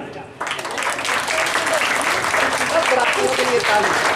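An audience at a Shrimad Bhagavat Katha religious discourse breaks into sustained, dense applause that carries steadily to the end, heard close and loud.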